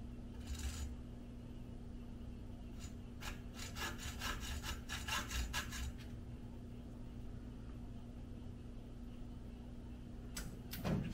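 A hacksaw cuts through a metal screw in a quick run of rasping back-and-forth strokes, followed by a pause and a few more strokes near the end, all close-up over a steady low hum.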